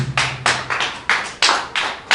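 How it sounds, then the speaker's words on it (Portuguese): A church congregation claps in a loose, steady rhythm, each sharp clap ringing close and distinct, about three per second, with no voices over it. "Palmas para Jesus"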